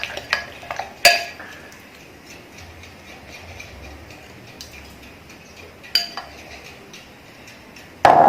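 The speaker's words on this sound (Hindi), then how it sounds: "इसको पहले अच्छे से मिक्स कर लेंगे बैटर को।" Rajgira flour batter for chilla being stirred in a bowl: a few sharp clinks of a spoon against the vessel at the start, middle and end, separated by quiet, low mixing.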